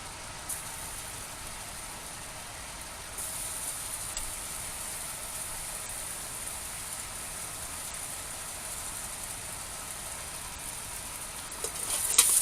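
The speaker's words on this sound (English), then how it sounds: "Nice hot pan, some nice cold oil. And we'll start our stew meat sauteing" Stew meat browning in a hot pan with oil for beef stew, giving a steady, even sizzle and hiss that holds throughout at moderate level, growing a little louder near the end.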